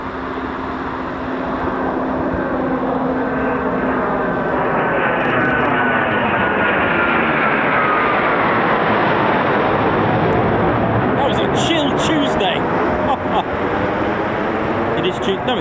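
A Eurofighter Typhoon FGR4 jet arrives at an RAF station and breaks overhead, its engine roar swelling loud and close with a sweeping, shifting pitch as it passes. Voices are heard briefly over the noise.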